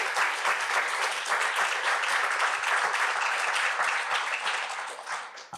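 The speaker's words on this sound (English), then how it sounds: "We want to give him a big round of applause." A big round of applause from an audience at an evening panel event in Essex Junction, steady dense clapping throughout that tapers off slightly at the end.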